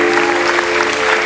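Guests at a wedding reception break into steady applause, a continuous loud wash of clapping hands with a constant background tone running beneath it.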